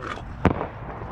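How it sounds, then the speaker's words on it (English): A single sharp firework burst cracks once at dusk near a skatepark, a brief loud pop over a low outdoor background hum. "Fireworks going off."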